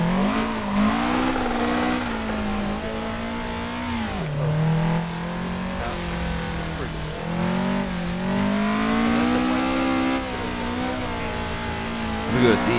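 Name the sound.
drift car driving with H-pattern shifter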